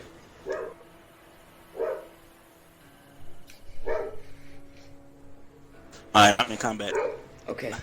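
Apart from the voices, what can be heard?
dog barking in the room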